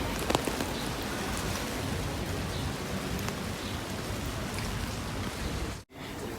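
Steady rain pours down in the Norwegian city of Bergen, a dense, continuous hiss of drops on streets and surfaces, loud and close, with a few sharper patters and a brief dropout near the end.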